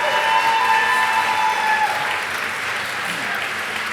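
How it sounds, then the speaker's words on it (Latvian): A room of guests at a landscape architecture awards ceremony in Latvia applauds a winning author, with sustained, dense clapping throughout and faint tones ringing over it early on. "Autors ar aplausiem."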